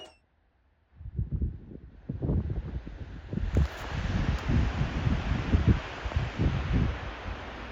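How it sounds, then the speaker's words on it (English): Wind gusts roar and buffet across the snowy summit of Pikes Peak, a dense, rough rush that swells after a brief hush and keeps blustering loudly to the end. "I just love how that sounds with the wind"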